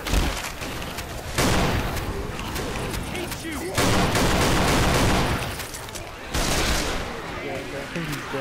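Sustained gunfire aimed at the Tank in the Left 4 Dead 2 video game, dense loud bursts of shots with brief gaps, while players talk over it.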